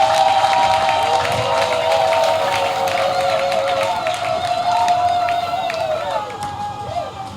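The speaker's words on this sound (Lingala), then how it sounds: "bobeta maboko." A crowd claps and cheers continuously at close range, with hand claps and voices overlapping throughout, including mixed speech and a high-pitched voice.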